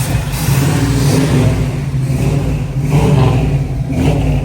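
A Chevrolet squarebody pickup truck's engine, with its timing set slightly high, revs loudly and up close in a couple of surging blips over a rough, rumbling idle.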